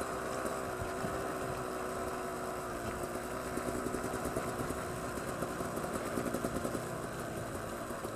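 Two-stroke engine of a Beta Xtrainer motorcycle running steadily outdoors, a continuous buzzing drone with a slight pulsing flutter and no talk.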